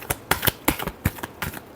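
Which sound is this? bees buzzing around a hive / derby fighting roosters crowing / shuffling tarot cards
shuffling tarot cards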